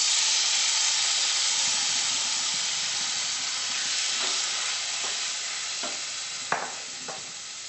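Pumpkin frying in a pan for pumpkin chutney, with a steady loud sizzle and hiss throughout and a few soft stirring scrapes toward the end, no talk.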